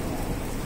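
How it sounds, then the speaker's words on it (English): Dense, steady heavy rain pours down on a cruise ship deck at sea, a constant broadband wash of drops with a low rumble beneath, no voices. "And it started pouring."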